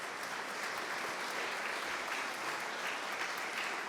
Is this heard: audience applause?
yes